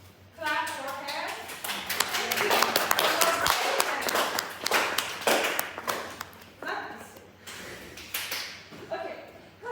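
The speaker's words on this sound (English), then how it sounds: "Clap for her." A classroom group claps briefly for a student, scattered hand claps mixed with overlapping voices and chatter, moderately loud for a few seconds.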